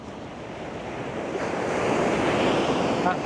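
Ocean surf rolls in at Baker Beach in San Francisco, a broad continuous wash of breaking waves mixed with gusting wind buffeting the microphone, swelling slightly louder toward the end.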